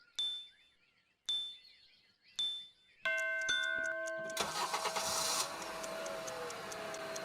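Three sharp metallic dings, each followed by a short silence, then a car engine cranks and catches, settling into a steady running rumble.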